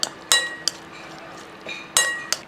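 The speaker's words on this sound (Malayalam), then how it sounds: "അതൊന്ന് പിഴിഞ്ഞ് അങ്ങോട്ട് നാരങ്ങ നീരൂടെ ഒഴിച്ചതിന് ശേഷം ഒന്ന് ഇളക്കി നല്ലപോലെ മിക്സ് ചെയ്തെടുക്കുക" A spoon stirring and mixing squid with lemon juice and masala in a dish, with a few sharp clinks of metal against the bowl at irregular intervals, close and clear.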